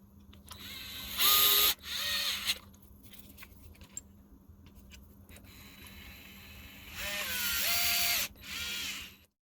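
A power ratchet removes screws and nuts from the rear wheels of an Element Enduro, Trailrunner or Sendero side-by-side. Two loud whirring bursts come early, then a longer run near the end, with quiet shop noise in between.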